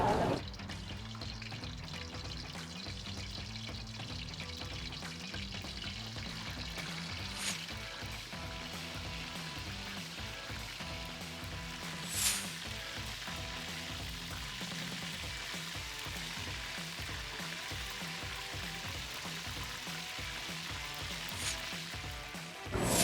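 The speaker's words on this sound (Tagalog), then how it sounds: "We should both fry both sides of the chicken meat" Chicken pieces frying in oil in a pan give a steady, close sizzle that holds evenly throughout, with a few faint clicks and knocks underneath.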